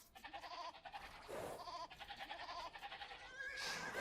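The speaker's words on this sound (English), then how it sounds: "Found 1 pair of my sheep." Sheep in a real-time strategy video game bleat in quick, overlapping bursts, several short calls in a row with a brief pause between groups, fairly clear and close.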